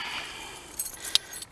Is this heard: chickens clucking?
no